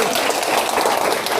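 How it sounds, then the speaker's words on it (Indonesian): A crowd at an event in Manado with the regional PKS chairman and Posyandu health volunteers claps in a dense, continuous burst of applause. "Mana dia tepuk tangan dang?"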